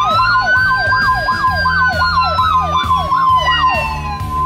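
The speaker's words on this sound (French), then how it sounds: "downloader une application qui fait une sirène de police." A police siren from a phone app wails in a fast repeating up-and-down sweep, loud and continuous, over a low steady engine-like rumble.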